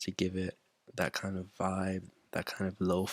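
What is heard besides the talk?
No distinct noise like a dog, phone or traffic.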